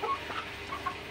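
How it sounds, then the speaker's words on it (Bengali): Five-day-old Brahma chicken chicks peep softly in a brooder, a few short high chirps scattered over a low steady background hum. "তো এই ব্রাহ্মা মুরগির বাচ্চা আছে এখানে"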